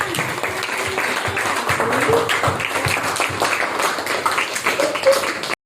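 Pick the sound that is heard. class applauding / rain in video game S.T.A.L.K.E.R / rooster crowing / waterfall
class applauding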